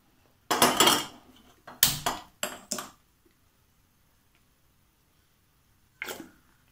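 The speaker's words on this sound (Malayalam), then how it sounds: "ചീനച്ചട്ടി അടുപ്പത്ത് വയ്ക്കാം." A wok (cheenachatti) set down on a stove while potato cheese balls are prepared, heard as several close metallic clanks and knocks in quick succession, then a pause and one last clatter.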